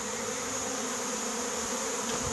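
A steady, dense buzzing of many honeybees fills the air, constant and moderately faint, with no voices.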